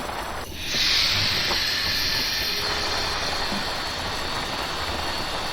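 In Train Simulator, a loud, sustained hiss of a PRR S1 steam locomotive's air brakes bursts in and holds steady, with a low rumble underneath and a faint tone briefly joining in.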